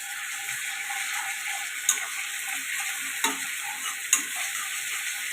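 Garlic sizzles with onions in a frying pan, a steady hiss broken by three sharp clicks of a utensil scraping and stirring against the pan.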